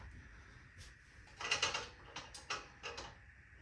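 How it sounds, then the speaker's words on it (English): A 13mm socket tightens the bolts on roof rack crossbars of a GX470 LFD rack, giving quiet ratcheting clicks and metallic clatter in short bursts around the middle of a near-silent stretch. "This is gonna be a 13mm socket."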